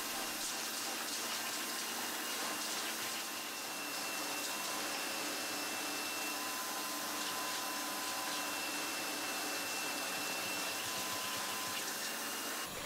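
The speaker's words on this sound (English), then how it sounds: "before we can break out the cleaning solutions and wet vacs, a good dry vac is in order" A vacuum cleaner dry-vacuuming a car interior, a steady loud whooshing hum that holds unbroken throughout with no talk.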